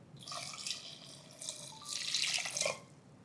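Hot milk, about 1.5 litres with its skin of cream, streams into a coconut kheer mixture in a pot off the heat. The pour is a steady, fairly soft splashing flow that swells toward the end, with no voices.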